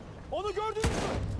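In the Battlefield 1 video game, a single heavy artillery blast booms out sharply right after a voice, leaving a rumbling tail behind it.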